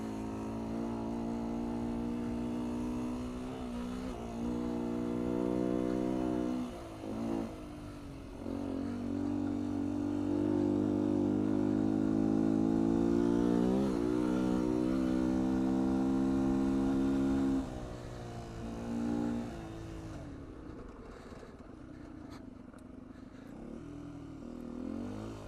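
A 2019 Beta 125 RR-S two-stroke dirt bike with a 13-tooth sprocket rides a trail with the rider seated, its engine droning steadily and rising and falling in pitch as the throttle changes, then dropping off toward the end.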